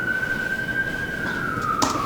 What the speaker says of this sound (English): I'm just gonna wait for that ambulance or police car to go by.